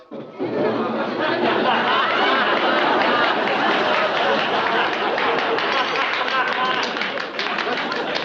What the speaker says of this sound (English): Would all the nominees please stand and accept our applause?